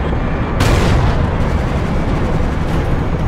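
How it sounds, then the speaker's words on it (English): A heavy rocket blast knocking out an Abrams tank in Battlefield Iraq, a loud dense boom that hits sharply and rumbles on continuously, close and alone without voices. "There we go, we knocked out an Abrams."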